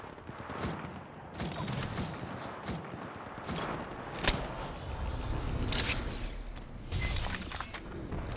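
Gunfire in the mobile shooter Apex Legends Mobile: sharp shots and short bursts at irregular intervals over a busy game soundscape, moderately loud.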